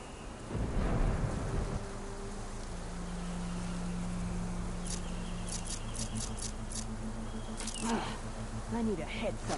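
Steady rain and a deep rolling thunder rumble in the video game Horizon Forbidden West, with a loud low burst near the start and continuous wash underneath, plus faint tonal game sounds later.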